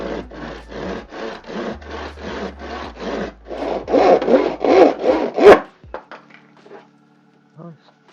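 A handsaw cuts through wood at a slight angle, about a dozen steady rhythmic back-and-forth strokes growing louder and rougher toward the end, then stopping with a few faint knocks and handling sounds.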